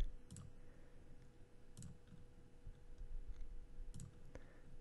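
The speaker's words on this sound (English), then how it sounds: "And click Update Map." Computer mouse clicks while editing pin colors on a map: four or five crisp, isolated clicks spaced a second or two apart over a quiet room hum.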